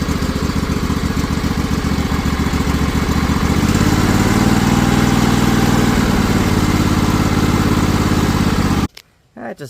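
A Craftsman riding mower with a 21 HP Briggs & Stratton Intek engine runs loud and close, its throttle raised partway through, settling into a steady drone before cutting off abruptly near the end.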